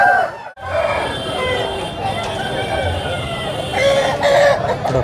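Young roosters at a poultry market crowing and clucking, several birds close by under loud crowd chatter and people talking.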